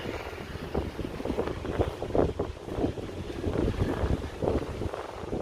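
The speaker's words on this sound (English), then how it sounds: "There's a nice breeze blowing off the water." A breeze blows in off the water at an overcast beach, gusting wind buffeting the microphone in uneven, rumbling surges with a faint wash of surf behind it.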